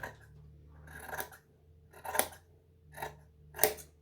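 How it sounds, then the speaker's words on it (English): Scissors trimming the ends of fabric even, four distinct crisp snips spaced about a second apart, close and fairly quiet with nothing else around them. "you want to come along with some scissors and just make them even"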